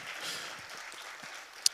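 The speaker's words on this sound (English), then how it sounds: "Another round of applause, please, for Ella." Audience applause for a speaker at a leadership conference session, a faint, distant patter of clapping that gradually tapers off, ending with one brief sharp click.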